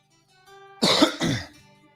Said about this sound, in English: Coughing in your ear.